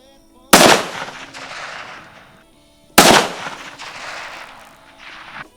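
Two loud rifle shots at an outdoor shooting range, a few seconds apart, each a sharp crack with a trailing echo that fades slowly; faint voices murmur in the background.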